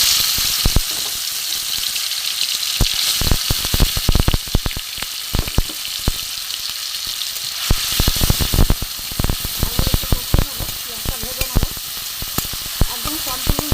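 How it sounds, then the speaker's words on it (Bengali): Chopped tomato, onion and green chili sizzle and fry in hot white oil, a steady loud crackle with sharp pops and spatters throughout, joined by occasional stirring scrapes. "এখানে আমার কুচানো টমেটো, পেঁয়াজ আর কাঁচা লঙ্কা এটা আমি দিয়ে দেবো। এতে তেলও গরম হয়ে গেছে।"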